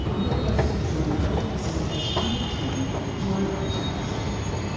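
A metro train pulls into a station, with a loud, steady rumble of wheels on rails and brief high squeals from the wheels throughout, without any voices.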